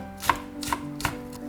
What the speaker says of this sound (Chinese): 切菜就很疗愈了